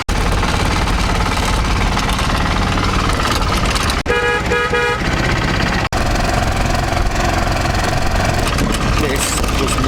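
A tuk-tuk van's engine rattles and knocks loudly and continuously on a bumpy ride in Udaipur, India, with a horn tooting briefly partway through and jolts from the road.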